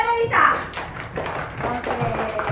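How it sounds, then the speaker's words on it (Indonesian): A class of children clapping hands together in a classroom, a brief burst of claps and taps with kids' voices talking over it. "Tepuk tangan dulu untuk Kak Delisa."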